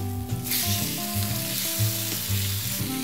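Oil-coated steak sears in a hot pan just after being flipped, giving a steady, close, even sizzle with soft tonal music underneath.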